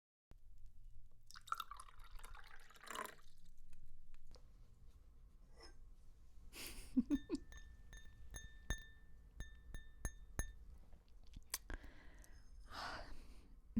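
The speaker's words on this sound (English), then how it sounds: "pour myself a drink?" Wine poured into a glass, with soft liquid splashes, clinks and drips coming in short, quiet bursts, close and low in level, among small handling sounds and no talk.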